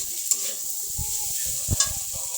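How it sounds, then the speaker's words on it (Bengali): Pasta being stirred with tomato sauce and Maggi masala in a pan, a soft steady sizzle with a few scraping spoon strokes, close and fairly quiet. "টমেটো সস দিলাম, দিয়ে নেড়ে চেড়ে ভালো করে নিচ্ছি।"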